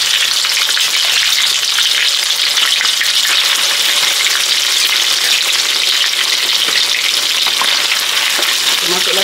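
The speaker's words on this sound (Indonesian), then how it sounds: "goreng daging" Beef for dendeng frying in hot oil in a wok, a loud, steady, close sizzle and crackle with occasional stirring scrapes, continuous throughout.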